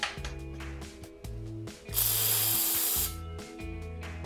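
A ratchet wrench clicks in short, close bursts while loosening the idler pulley on a Toyota 4AGE 20-valve engine, with a brief hiss of spray midway between the ratcheting runs.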